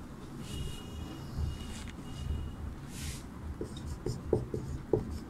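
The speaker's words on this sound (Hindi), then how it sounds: "तो यहाँ पर हम लोग प्रश्न 1 लिखेंगे।" Chalk or marker writing a question on a classroom board, a run of scratchy rubbing strokes with short tapping dots toward the end, close and alone.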